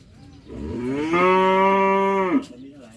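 A single cow lets out a long, loud moo that swells and holds steady before cutting off, with no other voices around it.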